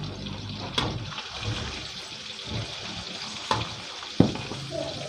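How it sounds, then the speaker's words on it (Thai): Garlic and bird's eye chilies fry in hot oil in a wok. A steady sizzle runs throughout, broken by a few sharp scrapes and clacks as a utensil stirs them. "เราทอดไปจนกระเทียมกระเทียมเราเหลืองนะครับ"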